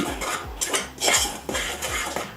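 Metal utensil scraping and clinking against a mixing bowl while cheese scone ingredients are stirred together, steady close rhythmic scrapes with no talking.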